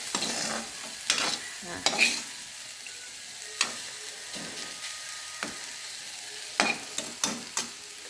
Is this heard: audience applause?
no